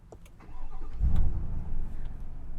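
Engine start on a 2021 GMC Sierra 1500 Denali with the 6.2L V8 and sport exhaust: a short starter whir, then a deep rumbling catch that swells into a steady, throaty idle, recorded up close.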